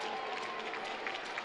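Stadium crowd at a soccer match between New Mexico United and Phoenix Rising FC, a dense continuous roar of cheering and clapping that holds steady and fills the stands.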